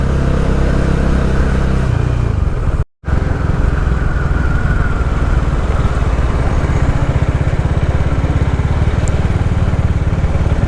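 A Bajaj Dominar 400 motorcycle rides along a road in Kerala, its engine droning loud and close with wind rush, steady apart from one very short cutout early on.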